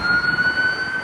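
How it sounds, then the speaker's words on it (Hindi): Steady wailing tone of a police or fire engine siren on a city street in Canada, loud and close over a low traffic rumble, with no talk. "तो यहाँ पे जब पुलिस का सायरन हो या फिर फायर ब्रिगेड का हो तो सारे लोग अपनी गाड़ी फटाफट साइड कर लेते हैं।"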